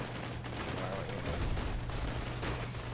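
Gunfire from the video game Borderlands 2 crackles in a steady, dense stream across the whole stretch, with a low background hum under it and no clear pauses.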